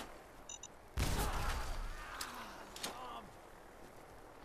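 A sharp, loud gunshot blast in Fallout 4 rings out against a spike mine, followed by a second crack and a mechanical springing whir as the mine pops up, with quiet game sounds before the first shot.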